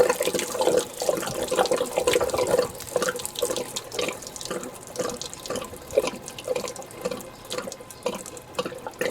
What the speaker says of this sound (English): watch it drain out